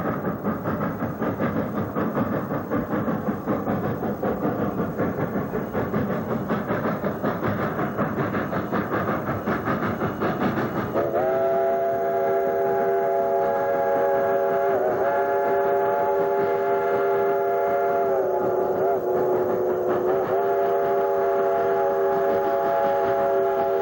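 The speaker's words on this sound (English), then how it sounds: "Watching the train climb uphill near Coxo" The Cumbres & Toltec steam train climbs uphill near Coxo with a loud, laboring chug, then a long multi-tone steam whistle blares for several seconds, repeating in drawn-out blasts to the end.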